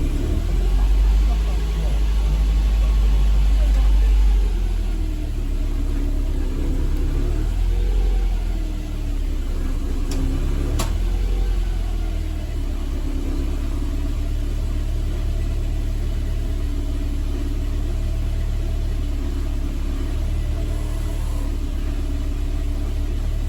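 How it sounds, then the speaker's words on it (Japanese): A Mercedes-Benz 190E W201 cold-starts with the accelerator lightly pressed, a loud low surge at start that settles into a steady idle rumble, with a brief rev bump and a voice speaking over it. "アクセルを軽く踏みながらエンジン始動するようにと190の取扱説明書にはエンジンの始動方法として記載されています。"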